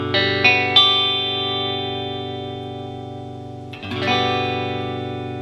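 A guitar rings out with open chord strums, a bright sustained chord struck a few times at the start and again near the end, letting notes ring and decay between, close and unaccompanied by talk.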